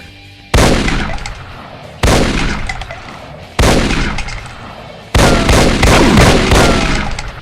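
Four loud, close shotgun-like blasts from a sergeant enemy in a Doom mod, spaced roughly evenly about a second and a half apart, each with a sharp attack and a decaying echoing tail.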